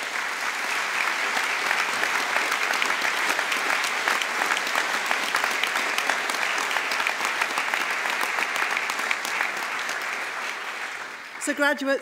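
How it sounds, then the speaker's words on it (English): Graduation ceremony audience at the University of South Wales in Newport gives a long, loud, sustained round of applause, dense and even throughout, breaking off near the end. "I think you all deserve a round of applause."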